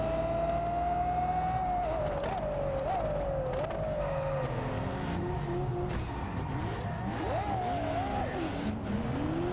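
A Bugatti hypercar races through tight back streets in a driving video game, its loud engine note rising and falling through gear changes, with tire squeals and other cars roaring nearby.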